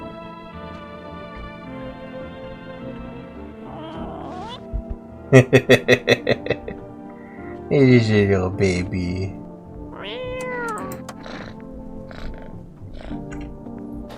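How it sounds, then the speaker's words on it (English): A cat in a video game meows as it is petted: a few drawn-out, rising-and-falling mews spaced over several seconds, mixed with a person's speech and a quick burst of short pulsing sounds. "Pet the cat. You reach out and pet the cat."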